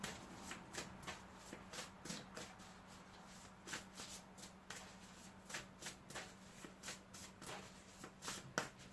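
Tarot cards being shuffled by hand for a reading, a steady run of crisp riffling slaps and soft card rustles repeating close up in a quiet room, with no talking.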